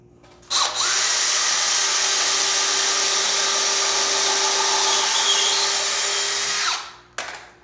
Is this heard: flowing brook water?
no